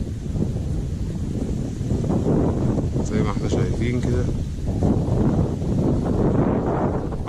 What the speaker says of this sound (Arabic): الهوا بس جامد